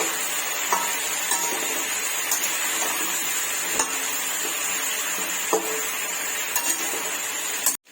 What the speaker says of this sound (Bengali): ভালো করে বাদামি ভাবে ভেজে আলুটা তুলে রাখবো।